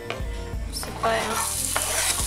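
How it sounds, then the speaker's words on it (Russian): Chopped onion sizzles in hot olive oil in a heated frying pan, a steady close crackling hiss with stirring scrapes, growing louder partway through. "лук, пусть поджарится."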